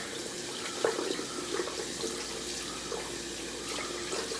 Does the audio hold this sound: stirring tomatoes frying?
no